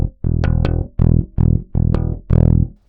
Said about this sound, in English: You can start to hear that distortion happen